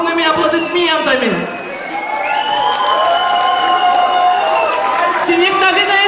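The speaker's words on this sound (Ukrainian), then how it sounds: "Давайте зустрінем гэты гурт бурными аплодисментами." Audience at a rock festival applauds and cheers to welcome a band, a steady wash of clapping and crowd noise under a loud voice calling out over it.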